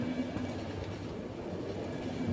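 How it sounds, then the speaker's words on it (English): A train runs in the video game The Final Station, giving a steady, continuous rumble with a faint rattling texture that holds at an even level throughout. "But this train was almost faster than them."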